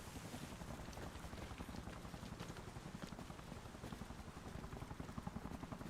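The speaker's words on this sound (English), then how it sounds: "Oh, Huey coming." A Huey helicopter approaches in a video game, a faint steady rotor chop pulsing evenly throughout at low volume.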